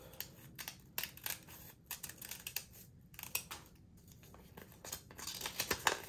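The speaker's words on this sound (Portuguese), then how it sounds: "e pode recortar o papel" Scissors snip through paper in a run of short, crisp cuts close by, irregularly spaced with brief pauses, quickening into denser snipping toward the end.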